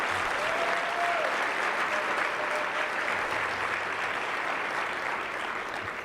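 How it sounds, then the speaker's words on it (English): An audience at a 2024 Hope Breakfast applauds its scholarship winners, a dense, sustained wash of clapping from a large crowd that stays loud and even throughout, with no talk over it. "Give me a round of applause for all our scholarship winners again"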